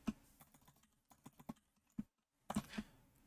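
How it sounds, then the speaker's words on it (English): Computer keyboard typing, a quick run of faint, close key clicks with a short pause before a final cluster of presses. "I'll just type hello world"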